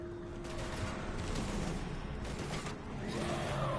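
Dense, continuous gunfire from the Mass Effect video game on PS4, against Husk enemies, with overlapping shots and whooshes holding a steady, loud level throughout.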